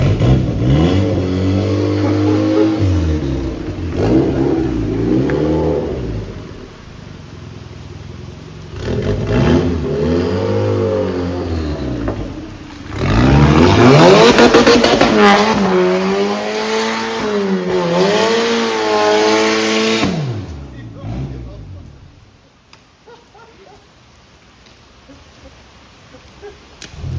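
Engine of an Exocet chassis-swap build, said to have been started only a few times, revving repeatedly in loud, close bursts that rise and fall, with a longer sustained high rev near the middle before it drops to idle and quiet.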